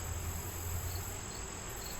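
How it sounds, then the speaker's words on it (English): Honey bees swarming around a hive during a September inspection, a steady dense drone filling the space close by with no break, and no voices over it. "A lot of bees all over here."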